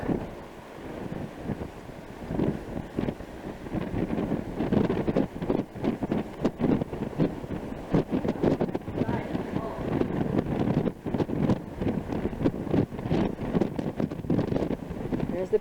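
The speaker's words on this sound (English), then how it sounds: "It's real windy." Strong gusting wind buffets the microphone at a Texas ranch pool, rough and loud throughout, with a voice speaking briefly beneath it.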